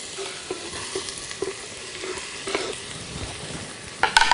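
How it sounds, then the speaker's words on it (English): Diced onion sautéing inside a Waring soup maker, a quiet steady sizzle with soft periodic stirring knocks and a louder clatter at the end. "we're just going to let that saute for about 2 or 3 minutes roughly"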